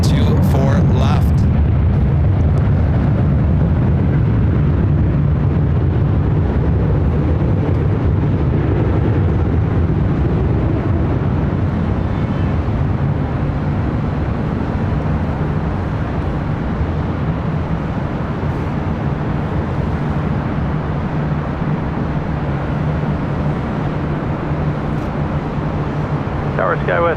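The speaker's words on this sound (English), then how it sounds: "Big Q, Qatar Cargo, flight 8105, continuing on to Chicago O'Hare, 777 freighter lighting up." A Qatar Cargo Boeing 777 freighter spools up for takeoff at LAX, a broad, loud jet roar that holds steady throughout and swells to a peak early on.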